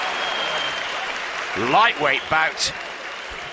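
A boxing crowd cheers and applauds at a 2011 AIBA lightweight (60kg) final, a steady broad roar of clapping throughout, with a commentator talking over it.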